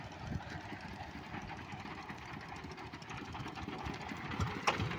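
A diesel engine on a votvoti motor van idles near a railway underpass, a steady rough low chugging drone running throughout with no talk over it.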